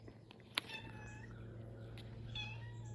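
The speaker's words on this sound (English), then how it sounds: "Here's your barn cat." A barn cat meows several times in a workshop, with short plaintive calls that are faint against a steady low hum.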